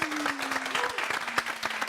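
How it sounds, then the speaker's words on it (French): A studio audience on a Gabonese television talk show claps briskly and close, a short dense burst of applause with faint tonal sounds underneath. "on va applaudir pour ça, s'il vous plaît"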